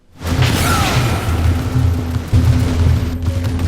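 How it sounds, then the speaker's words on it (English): Kinetic energy blast from the MAGSHIELD in the video game Fuse: a loud, sustained burst of booming, crackling explosive noise with a whooshing onset, lasting several seconds. "This energy can be released in a devastating blast which literally tears enemies apart."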